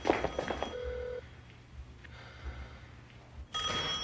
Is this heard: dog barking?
no